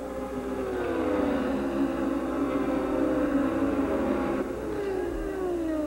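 Onboard an Indy Racing League car driven by Jeff Ward during the 2000 200-mile race at Walt Disney World Speedway in Orlando, with a steady, loud, high-revving engine drone shifting pitch, while other cars whine past nearby.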